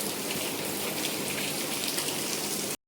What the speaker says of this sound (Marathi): खूप म्हणजे खूपच पाऊस पडतोय, कधीपासून पाऊस पडतोय.